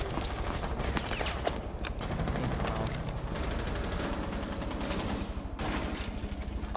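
Gunfire in Rainbow Six Siege: continuous rapid automatic shots and bursts, loud and close, with a few sharper cracks over a dense, unbroken barrage.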